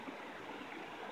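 Water of Cripple Creek flows in a steady, even rush, a constant broadband wash with no pauses, heard up close and alone without voices.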